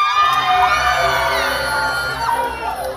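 A crowd at an outdoor temple evening concert screams, whoops and cheers loudly and continuously for about three seconds, with no talk.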